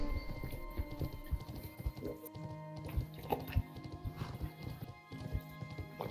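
Horse hooves clip-clopping at a quick pace in an online game, a steady rhythm of mid-level thuds running throughout over background game music and ambience.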